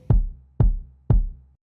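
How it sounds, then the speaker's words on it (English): Three deep, punchy electronic kick drum hits land about half a second apart, each with a booming low tail, loud and isolated with no other sounds. "It's just like kind of a deep, punchy kick."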